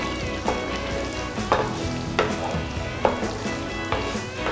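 Chettinad-style paneer masala stirred in a frying pan, a steady close sizzle broken by a spatula scraping through the pan about once a second.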